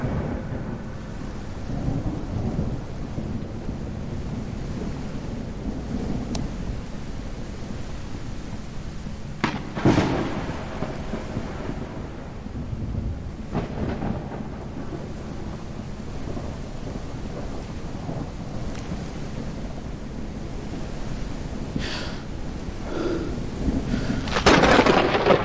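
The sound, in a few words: thunderstorm with rain in a horror video game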